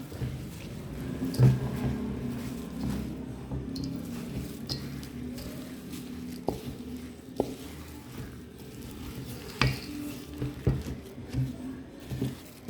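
Spoon working through cookie dough with chocolate chips in a bowl, soft wet squishing and occasional clicks against the bowl, quiet and close with no talking.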